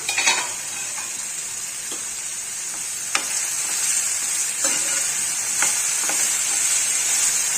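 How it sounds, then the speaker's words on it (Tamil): Egg and potato fry with masala in a pan gives off a continuous sizzle, with several light scrapes and clicks of a spatula stirring at irregular intervals, close and fairly loud. "அப்பப்போ திறந்து நம்ம அதை கிளறிக்கலாம் ஓப்பன் பண்ணி கிளறி விட்டுக்கலாம்"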